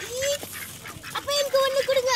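Ducks at a waterside spot on a family trip to Rameswaram honk and quack in short repeated calls while visitors feed them chips, mixed with a busy, noisy background and nearby voices.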